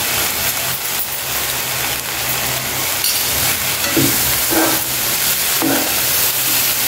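Soy sauce and chili sauce poured into a hot pan, giving a steady broad sizzle and hiss with a few brief stirring scrapes, close and continuous, no talk.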